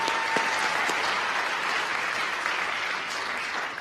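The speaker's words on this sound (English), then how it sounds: "Can we get a round of applause for them?" Sustained audience applause fills a homecoming awards show venue, a dense, steady clatter of many hands clapping at full volume throughout with no speech over it.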